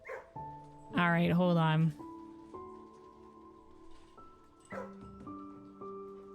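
Dogs in the Blue Prince video game give a loud bark then a second yip a few seconds later, with someone talking briefly over sustained musical tones.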